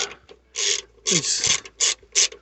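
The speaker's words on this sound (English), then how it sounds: "we have to remove this plastic cover right here with a T25 torque" Plastic cover screws being backed out with a T25 Torx driver on a 2003 to 2006 Porsche during rear hatch strut replacement, giving short bursts of close, dry ratcheting and scraping with brief pauses between them.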